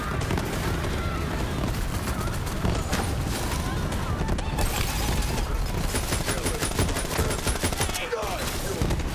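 Gunfire in Borderlands keeps up a dense, continuous barrage of rapid shots and impacts, with players talking over it.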